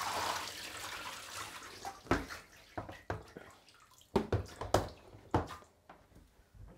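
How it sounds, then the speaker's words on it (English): Freshly washed raw wool is lifted out of a tub of water and left to drain. Water trickles and splashes back down with several squishy drips and pours at close range, and no one talks. "I'm going to lift this up and let it drain a little."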